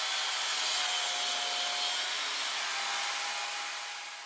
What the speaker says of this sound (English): I clamp it and I make the same cut.